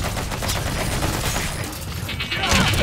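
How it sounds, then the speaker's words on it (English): Dense, rapid bursts of gunfire from soldiers in Metal Gear Solid, a sustained loud fusillade of shots and automatic fire that carries through the whole stretch, with no one talking over it. "Oh, I'm getting shot at."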